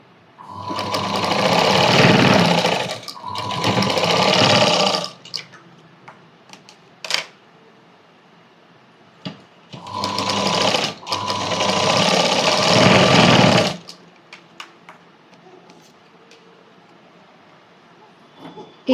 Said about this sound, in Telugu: దాన్ని ఫోల్డ్ చేసి ఇక్కడ కుట్టుకుంటున్నా.